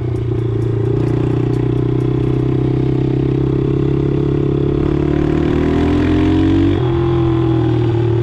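A carburetted engine runs steadily nearby with a strong low drone, then revs up and settles back down, loud and continuous with no talking.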